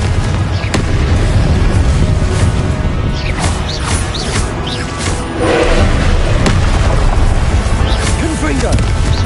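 Repeated booming blasts of the Confringo explosion spell in Hogwarts Legacy go off amid combat clatter and shouted incantations, each burst loud and close, with crashes and impacts scattered through a dense, continuous battle din.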